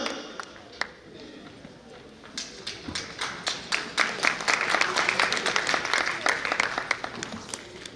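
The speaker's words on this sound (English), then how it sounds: "give him a round of applause" Audience at the Kerala Samajam of Greater New York golden jubilee celebration applauds the association's officers; scattered sharp claps begin, then build into quick, irregular clapping from a modest crowd while talk carries on underneath.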